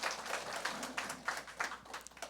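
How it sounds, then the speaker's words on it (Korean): A congregation claps during a Sunday church service to welcome a newcomer, a quiet, steady patter of many hands in loose, rippling bursts that keeps going without a break. "저기 계신데 박수로 환영하겠습니다."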